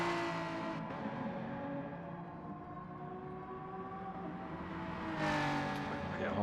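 A BMW M3 race car in a racing video game hums along at moderate distance with a steady engine drone, rising slightly in pitch toward the end as it accelerates, heard at low level.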